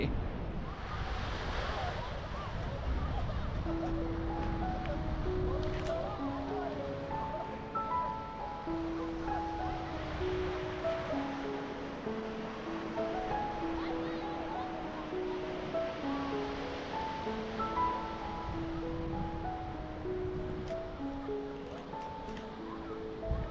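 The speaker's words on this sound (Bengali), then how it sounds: "এখানে খুব বড় বড় ঢেউ উঠছে আর কি এখন" Big sea waves break at Bakkhali beach with a steady, loud roar of surf and wind that fills the whole stretch, while faint voices and tonal chatter run underneath.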